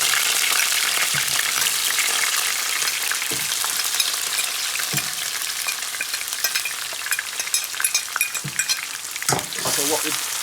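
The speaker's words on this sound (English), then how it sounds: "So we're just going to put everything in the pot now. I think it's hot already." Scallion, sweet pepper, onion and garlic fry in a hot pot for a Jamaican ackee and salt fish dish, with a loud, steady sizzle throughout and occasional stirring knocks.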